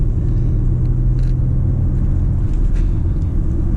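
A 2020 BMW X3 M40i accelerating hard, with a loud, steady low engine rumble and road noise filling the cabin continuously with no pauses.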